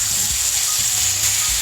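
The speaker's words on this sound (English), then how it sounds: "I'll sear the end real fast." Pork tenderloin end searing in a hot pan, a steady close sizzle with faint soft clinks underneath.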